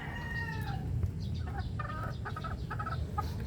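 Laying hens clucking and crooning in a coop while eggs are gathered from the nests, several close, soft, repeated clucks and a few higher calls over a quiet background.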